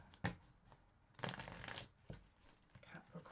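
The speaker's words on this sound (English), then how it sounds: "I did pre-shuffle the deck." Close, crisp bursts of a tarot card deck being shuffled, with sharp riffling flutters in a few uneven bursts and quiet handling sounds between them.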